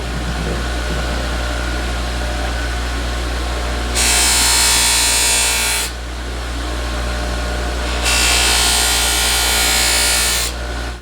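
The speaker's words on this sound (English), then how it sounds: "A little bit of rouge on a buffing wheel." Knife edge pressed against a spinning buffing wheel loaded with rouge, a steady motor whine with two loud, bright grinding bursts of contact a few seconds apart, close up with no talk.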